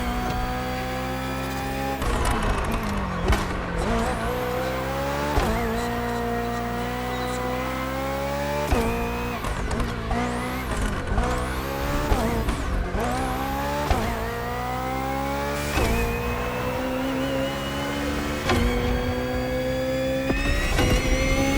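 A hybrid V8 race car in The Crew Motorfest roars steadily through upshifts and downshifts, its pitch rising and dropping with each gear change. Tires squeal in places, and the engine stays loud and close throughout.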